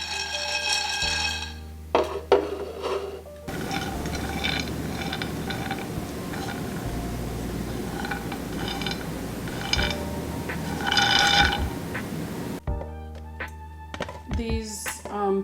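Pine nuts being shaken and tossed in a pan as they toast over heat, giving a steady rattling, clattering rustle that runs continuously for about nine seconds, bracketed by brief knocks and clinks before and after.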